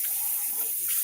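A drink poured into a glass at a dinner table, a brief steady liquid stream with a bright splashing hiss lasting about a second, close and alone.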